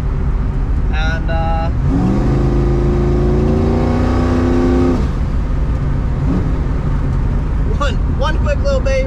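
A boosted Chevrolet S10 pickup engine gives one loud, close rev that climbs and holds for a few seconds before dropping back to idle, followed by a shorter blip, with a constant heavy rumble throughout.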